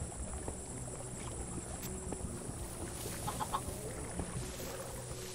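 Chicken clucking in the Minecraft Dungeons video game, faint and scattered over a constant background hum of game ambience.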